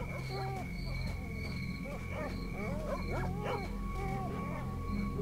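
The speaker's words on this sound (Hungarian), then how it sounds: "Kutyák, több picit parázok." Dogs bark and yelp repeatedly in the S.T.A.L.K.E.R. video game, several short sharp calls spread across the clip over a steady low droning game soundscape.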